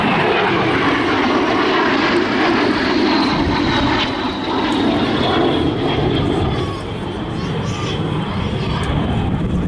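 L-39 Albatross jet at the Southport Airshow roars loudly and steadily overhead as its tone slowly shifts, while an announcer talks over it.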